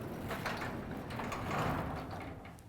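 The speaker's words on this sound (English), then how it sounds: "I'm ready to test the garage door opener with the button by the door" A garage door opener driving the door along its guide rails, giving a continuous mechanical whir and rumble of moderate loudness that swells slightly midway through.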